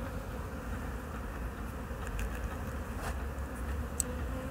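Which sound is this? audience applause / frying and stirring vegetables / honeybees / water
honeybees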